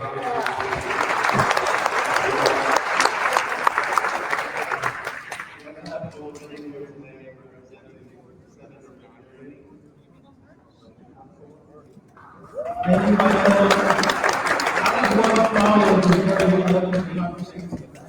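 Audience applause at a Second Chances Month celebration held by Friends Outside, a loud, dense burst that fades to a quieter stretch with a voice over it and then swells back to full clapping.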